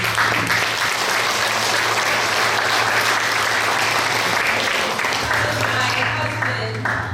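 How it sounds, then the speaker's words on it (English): Sustained applause from an audience at a leadership fundraising dinner honoring a guest's husband and in-laws, a dense, steady wash of clapping lasting throughout, with a low hum beneath and faint voices mixed in. "we could give them a round of applause"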